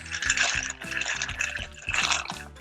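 Bubbling, gurgling water churns in a pot of pasta boiling over the top, a lively rolling boil with irregular pops and splashes close by.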